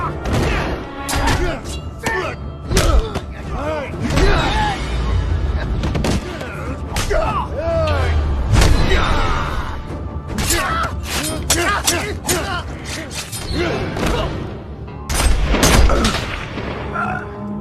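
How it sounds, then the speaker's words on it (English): Gunshots ring out in a tense film standoff, sharp loud cracks scattered irregularly across the scene among crashes and other action noise, with voices talking over parts of it. "Colt intervenes, shooting at Jasper from afar"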